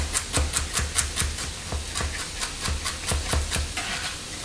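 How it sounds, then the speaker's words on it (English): A knife chops steadily on a cutting board, with crisp, evenly spaced strikes about four per second. The cuts sound close and clear, with no voices over them. "the main portion of what I'm doing here is just the chopping"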